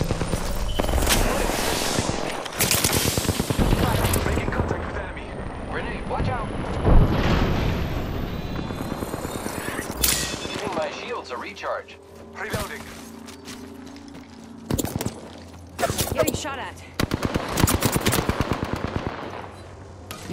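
Heavy automatic gunfire in the battle-royale shooter Apex Legends, loud rapid bursts dominating the start, then intermittent sharp volleys and single shots, with brief game voice lines in between.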